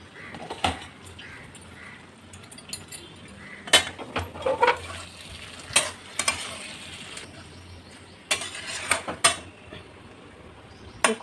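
Potato and cauliflower curry cooks covered in a pan with no water added, giving a soft steady sizzle broken by occasional clinks and scrapes of a utensil against the pan.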